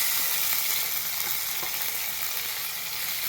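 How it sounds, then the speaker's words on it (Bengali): Bitter gourd pieces fry in hot salted oil, a dense, loud, steady sizzle that fills the whole stretch with faint crackles inside it. "উচ্ছেটাকে সুন্দর করে ভেজে নেবো আমি আগে।"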